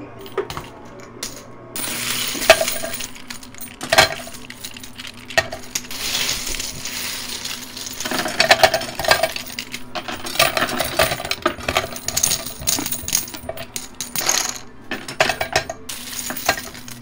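Quarters clinking and rattling inside a high-stakes coin pusher arcade machine, with repeated metallic coin drops and a steady mechanical clatter running throughout, moderately loud and close.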